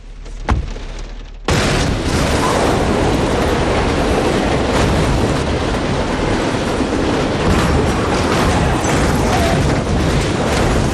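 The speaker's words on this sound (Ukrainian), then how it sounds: "Поїзд, який несподівано вривається на дорогу" A train bursting onto a city street in the film Inception: after a short quiet lead-in, a sudden loud roaring rumble of the train takes over and holds at full intensity, heavy and close, with rattling mechanical texture.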